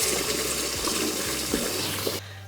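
Cold tap water runs in a steady, close gush over boiled eggs, then cuts off abruptly near the end.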